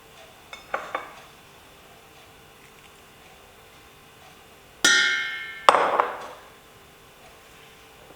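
Butter and sugar go into a stand mixer bowl for a spiced raisin loaf cake, heard as a few light taps and clinks at first, then two louder scraping, clattering bursts of ingredients hitting the bowl, close by.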